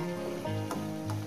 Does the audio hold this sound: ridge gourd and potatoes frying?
yes